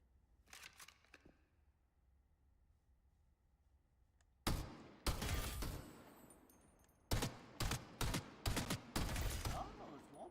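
Gunfire from a first-person shooter training course, shooting through a wall at revealed enemy targets: quiet start, then several loud bursts and single shots in quick clusters, close and sharp, with no talk.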